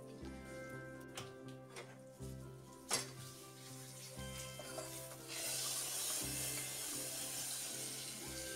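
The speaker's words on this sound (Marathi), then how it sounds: "आता ही फोडणी तयार झाली की आपण जी आमटी आधी करून ठेवलेली आहे त्याच्यावर ही ओतायची आहे" Hot tempering is poured over a pot of dalimbya (field bean) amti, and a faint hissing sizzle rises partway through and holds steady, after some quiet scraping and stirring sounds.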